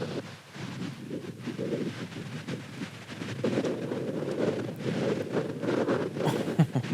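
Strong wind buffets the microphone outdoors on a disc golf course during a tournament round, a steady roaring rumble with gusts that swell and fade throughout, no talking.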